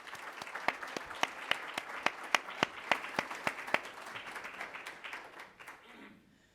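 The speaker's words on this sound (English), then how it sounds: "I really would like to give a round of applause to both Chris Sununu and Tom Sherman" An audience at a New Hampshire governor candidates' debate gives a round of applause, a sparse, distinct run of individual claps that thins out and fades after about five seconds.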